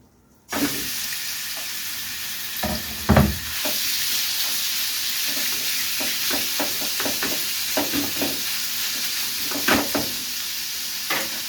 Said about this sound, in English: hearing the sizzle because you waited the proper time before you put in the meat